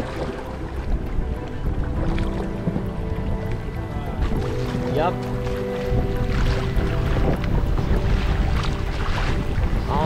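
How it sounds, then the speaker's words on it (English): A canoe paddles through big waves in wind on a wilderness lake in Patagonia, Argentina, with continuous loud wind buffeting and water sloshing throughout and a brief voice. "Waves are getting bigger."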